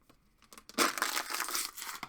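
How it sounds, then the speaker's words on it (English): An empty plastic water bottle is crinkled and crumpled by hand, a few faint taps giving way to a close burst of sharp crackling that keeps up for over a second, with no talking. "I just finished the water bottle, so you might have just heard me like crinkle it and crumple it"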